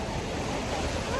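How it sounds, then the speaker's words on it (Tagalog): Strong ocean surf rolls steadily onto a beach at Da Nang under a cloudy sky, a continuous loud wash of breaking waves with wind buffeting the microphone throughout. "Grabe ang lakas ng alon dito"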